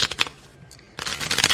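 Tarot cards are shuffled close by in two quick bursts of papery riffling, separated by a short quiet pause, with no talk over them.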